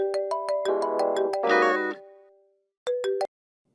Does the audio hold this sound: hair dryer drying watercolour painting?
no